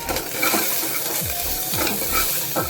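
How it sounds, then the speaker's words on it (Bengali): Ginger and garlic frying in hot oil for a dal tadka, a steady close sizzle with repeated scraping strokes of a spoon stirring through the pan. "আদা রসুনটা মোটামুটি ভেজে নিচ্ছি 2-4 মিনিট নাড়াচাড়া করে"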